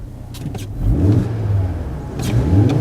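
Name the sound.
car engine revving through custom exhaust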